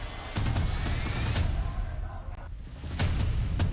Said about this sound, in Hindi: प्रदर्शनकारियों पर सामने से गोलियां चलाई जा रही है